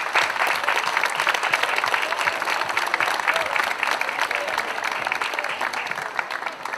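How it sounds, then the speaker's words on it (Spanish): Audience applauding at a community party for elders, a sustained loud burst of many hands clapping steadily for several seconds and fading slightly toward the end. "Un fuerte aplauso para todos,"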